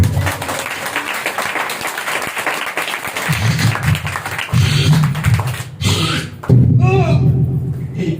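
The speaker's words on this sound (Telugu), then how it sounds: "కొట్టు చప్పట్లు." A church congregation at a Sunday worship service breaks into applause, a dense patter of clapping mixed with voices that gives way to louder talk and shuffling noise toward the end.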